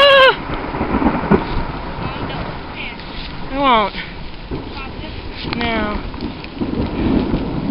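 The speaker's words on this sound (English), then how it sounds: "right now it's lightning" During a lightning storm, thunder rumbles under steady heavy rain outdoors, with a deeper roll midway and another toward the end, while people talk briefly over it.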